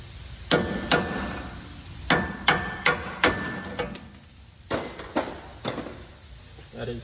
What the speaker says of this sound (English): With a hammer a few times.